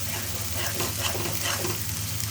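Spices fry and sizzle in a pan ahead of adding meat, giving a steady, soft hiss with faint scraping stirs throughout, with no voices present.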